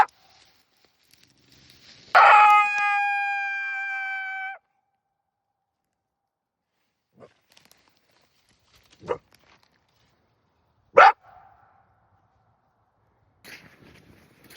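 A trapped coyote, a female in heat, lets out a loud yelping howl in the open over snowy ice, then a few sharp, brief barks and yips spaced seconds apart amid quiet.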